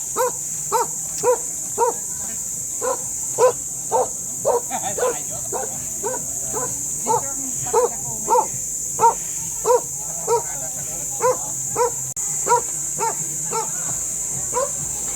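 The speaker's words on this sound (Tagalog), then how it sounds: "May mga aso rito." Dogs bark repeatedly in a steady series of sharp yaps, fairly close, continuing over a faint background hum.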